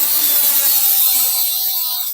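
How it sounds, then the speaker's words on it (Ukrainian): Angle grinder cutting into transformer steel while throwing sparks, a loud, continuous high-pitched whine held close and steady before cutting off abruptly at the end. "перва відмінність, якою саме легше це все зробити, це болгарка і іскра"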